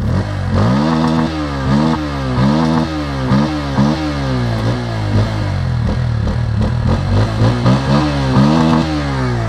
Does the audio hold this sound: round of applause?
no